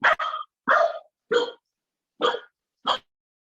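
A corgi barks six times in short, loud, close yaps with brief silent gaps between them, heard during an online meeting.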